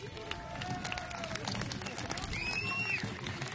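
An outdoor audience at an activist hiking rally in Bure claps for a graphic designer: a dense, fairly quiet patter of hands that holds steady throughout, with voices murmuring over it.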